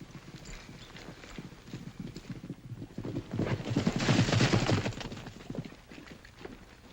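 Horse hooves clip-clopping in a western setting, rapid rhythmic hoofbeats that grow louder as the horse nears, peaking mid-way and then fading, with no talk.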